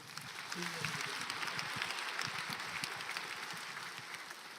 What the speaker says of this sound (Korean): 참 우리 하나님께 다시 한번 영광의 박수를.